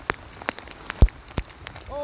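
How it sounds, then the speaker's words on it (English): Hail mixed with rain pours down outdoors during a fly fishing trip in Alberta, with sharp scattered impacts over a steady wet hiss and a brief tone near the end. "It's covered in hail."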